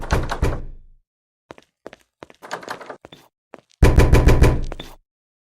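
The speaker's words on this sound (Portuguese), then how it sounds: "Tem alguém tentando arrombar aquela segunda porta." Door being forced open in the Garry's Mod video game: a loud burst of repeated heavy thuds, then scattered knocks and rattling, and a second loud run of rapid pounding hits near the end, with no talking.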